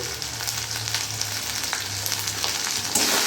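Kadai chicken cooking in a pan over a medium gas flame, with salt added, makes a continuous close sizzle and soft scraping from stirring, with a low hum underneath.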